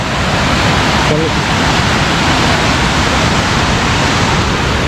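Kuang Si waterfall near Luang Prabang, a loud, dense, continuous roar of falling water heard close by, steady throughout with no pauses.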